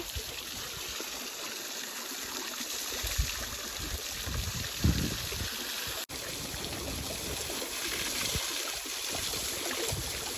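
Water runs steadily from a hose while a tractor is washed in a village yard, a continuous close stream with a few splashing bumps and no talking.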